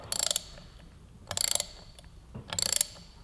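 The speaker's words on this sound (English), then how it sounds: "I've got a snap-on Allen in there and a 3/8 ratchet" A 3/8 ratchet turning a Snap-on Allen socket loosens Loctited rear rotor bolts on a 2015-2017 Yamaha YZF-R3, giving four quick bursts of sharp metallic clicking separated by short pauses, close and alone.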